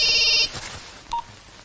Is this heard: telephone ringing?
yes